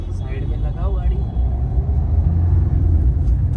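A car pulling into a parking spot at night, its engine giving a low continuous rumble close by, with faint voices in the background.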